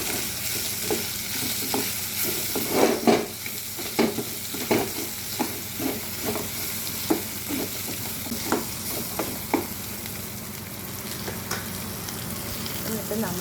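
Liver frying in a pan with turmeric, pepper powder and salt, stirred with a utensil that clicks and scrapes in a steady, uneven rhythm over a continuous close sizzle.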